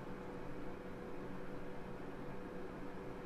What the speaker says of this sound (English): If you heard like a sort of like a white noise, I had my little heater on.